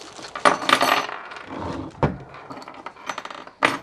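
A small bag of spare parts, including spare brushes, handled from the box of a Banggood burnishing machine: close, crinkly rustling with small metallic clinks in several uneven bursts, the sharpest near the start and end, with no voices.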